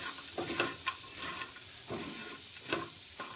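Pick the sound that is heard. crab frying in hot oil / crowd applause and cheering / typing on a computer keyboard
crab frying in hot oil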